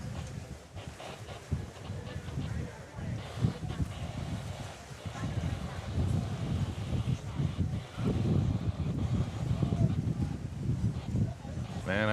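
Wind buffets a regatta commentary booth above a sailing race, a low, gusty rumble pressing on the microphone that rises and falls steadily beneath continuous talking.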